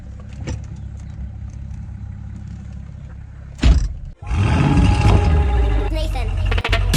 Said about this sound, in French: Attendez le bruit du mazout.